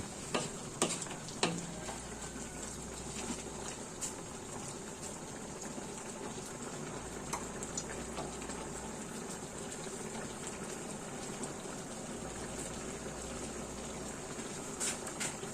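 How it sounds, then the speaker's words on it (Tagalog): Chicken feet adobo simmers as frozen coconut milk goes into the pot, giving a steady low bubbling and soft sizzle with faint ticks and clinks throughout, no talking. "Sa medyo natiyo-tiyo, lalagay ko na yung gata."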